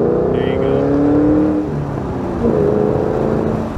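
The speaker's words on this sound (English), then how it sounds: "it just sounds like the most awesome muscle car ever" A stock 3-valve Ford Mustang V8 muscle car revs close to the microphone, with a deep engine roar that climbs, eases off briefly, then rises again over about four seconds.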